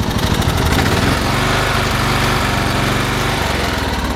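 A small lawn tractor engine runs steadily at close range, its idle carrying a rough, clattering metallic rattle throughout.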